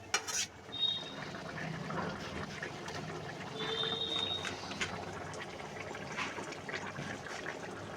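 Water poured into a pan of jackfruit curry with peas and shrimp, a soft splashing trickle with light clinks of cookware, fairly quiet and close, with faint background sounds.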